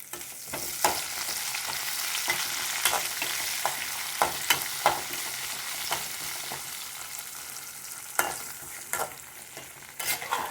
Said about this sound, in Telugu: దీంట్లోకి ఆ పోపు తీసుకొచ్చి వేయడమే